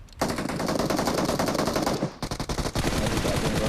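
Rapid automatic gunfire from PUBG Mobile rattles in dense bursts, a continuous burst followed by a brief pause and then stuttering volleys, loud and close with no talk over it.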